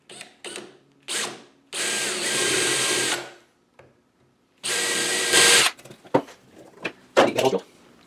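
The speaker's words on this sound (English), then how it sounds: "I'm gonna drill this to 3/16" A handheld power drill runs a step bit through metal, boring a 3/16-inch hole in a clamped whirligig clip part, in several close, loud bursts of whining with short pauses and a few clanks between.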